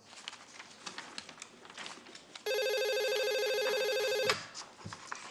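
An office telephone rings with a steady electronic trill lasting about two seconds, loud and close, amid quiet rustling before and after.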